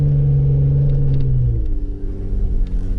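A Jeep Rubicon engine rumbles steadily while driving through deep snow in four-high, a low, even drone holding close and loud for about three seconds, with no talk.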